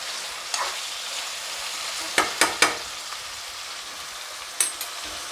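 Hyderabad-style chicken curry stirred in a pan over a low simmering sizzle, with a quick cluster of three metallic spoon knocks midway and another single knock later.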